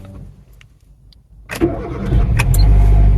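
A car that had been sitting for weeks with a flat battery cranks after a quiet pause and fires up, settling into a loud, steady idle close by.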